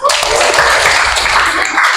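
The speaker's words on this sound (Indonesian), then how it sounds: "Tepuk tangan untuk kita semua" Classroom applause from students, a brief, dense burst of many hands clapping at once, loud and close, with no distinct voice.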